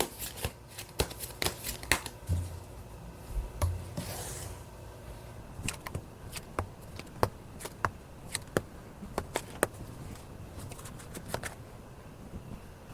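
Tarot cards are shuffled and drawn by hand, a quiet run of papery riffles, slides and sharp flicks in irregular bursts, close up and alone without speech.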